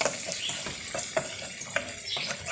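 Chopped garlic and coriander frying in a pan for moussaka: a spatula scrapes and taps the pan in a quick irregular rhythm over a soft, close sizzle, with no speech.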